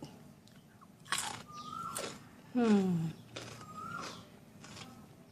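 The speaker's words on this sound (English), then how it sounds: "Let's try to eat with cucumber stick." Bites into a cucumber stick dipped in tartar sauce give a few crisp, close crunches, with chewing between them and someone talking briefly in between.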